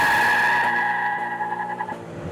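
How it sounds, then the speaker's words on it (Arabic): A BMW M3 G-Power car with 750 horsepower drifts left and right, tires letting out a loud sustained squeal over a throaty engine note that fades slightly toward the end. "سيارة بتسيح يمين يسار، وحش."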